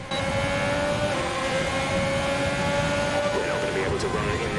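An F1 car in the F1 2020 game runs at the Austrian/Styrian Grand Prix, its engine holding a steady, loud, high-pitched whine with no break, while a voice speaks over it.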